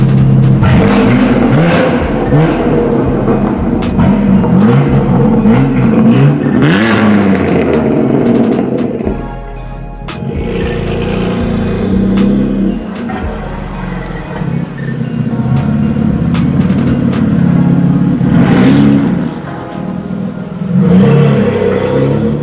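A BMW M2 Competition engine revs hard and loud, rising and falling through several throttle blips, with a deep rumble throughout and no talking.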